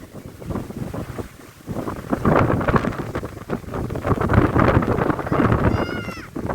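Gusty sea wind on the beach in Dammam, Saudi Arabia, buffets the microphone with low rumbling bursts, rising and falling over a steady windy background.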